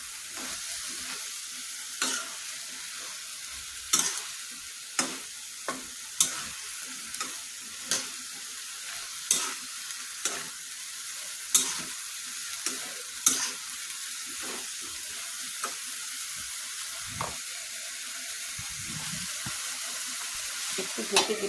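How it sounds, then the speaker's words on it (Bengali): Drumstick pieces being stirred with spices in a frying pan: a steady soft sizzle with a dozen or so distinct scraping knocks of the spoon at irregular intervals, close and moderately quiet, no voices. "সজনে ডাঁটাটা দিয়ে ভালোভাবে আমি মশলাগুলোর সাথে মিক্সড করে দিব।"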